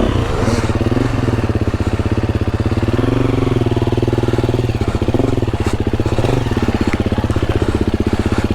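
A KTM 350 four-stroke enduro motorcycle being ridden hard in the woods, its engine chugging loud and close in a steady low-rev pulse throughout.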